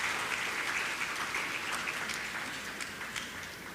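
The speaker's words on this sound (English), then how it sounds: "Kindly give everybody a round of applause." A crowd at a primary school graduation ceremony claps in sustained applause, moderately loud and even, with a few sharper individual claps standing out.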